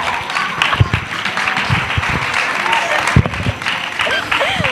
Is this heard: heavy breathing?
no